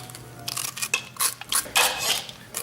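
A spoon scraping and scooping seeds out of a halved spaghetti squash, a quick run of close, scratchy scrapes and soft knocks against the hard rind, with no speech.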